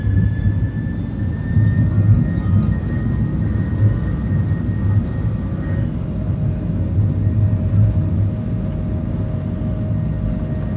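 A Thai Lion Air airliner takes off from Phuket, heard from inside the cabin as a loud, steady jet roar with engine whine rising gradually throughout.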